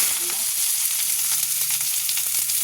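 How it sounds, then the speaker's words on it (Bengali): Whole spices tempering in hot oil for a Bengali village-style chicken curry, a dense steady crackle and sizzle that fills the short span without pause, close and loud, with a few soft clinks and no talking. "এই যে ফোড়নটা চরবর চরবর হয়ে গেছে"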